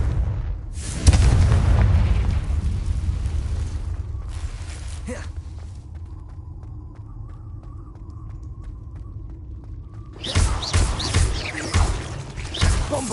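Confringo blasting spell in Hogwarts Legacy: heavy booming explosions open and close the passage, with a quieter stretch of rumbling and faint repeated ticks between the blasts, close and loud.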